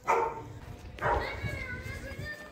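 A small abandoned puppy found in a bucket by a house door gives two short high yips, close by, with people talking around it.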